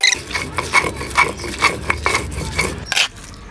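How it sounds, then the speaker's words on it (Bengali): Fried chapa shutki bhorta ground by hand on a pata grinding stone, a close, rhythmic scraping and rasping repeated roughly every half second with gritty stone-on-stone rubbing. "এই যে আমি পাটায় বেটে নিব, যে কোনো ভর্তা পাটায় পিষে নিলে সবচেয়ে ভালো হয়।"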